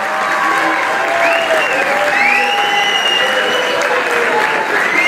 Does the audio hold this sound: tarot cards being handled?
no